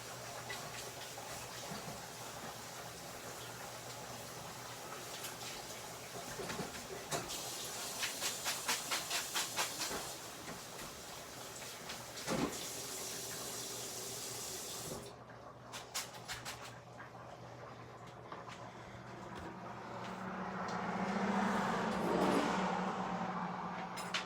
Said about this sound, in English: We're gonna run them under some water just to keep them from sticking together, plus rinse a little bit of the starch off of them.